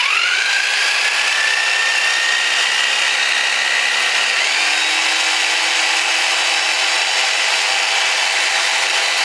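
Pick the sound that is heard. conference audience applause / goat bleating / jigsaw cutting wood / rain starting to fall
jigsaw cutting wood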